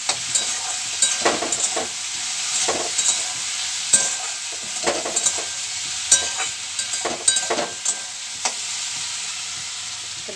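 Potatoes fry in a pan with a continuous close sizzle, broken by frequent clattering stirs and scrapes of a spatula at an irregular rhythm.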